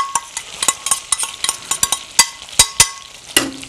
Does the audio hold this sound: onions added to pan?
yes